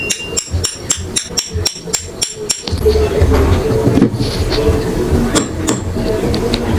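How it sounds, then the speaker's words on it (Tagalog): A hammer taps on the shaft of an electric fan during a repair, with about nine sharp, evenly spaced metallic blows in quick rhythm, followed by busier clattering and handling noise. "paluin lang ng martilyo dito"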